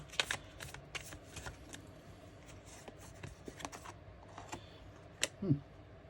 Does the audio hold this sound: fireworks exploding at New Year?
no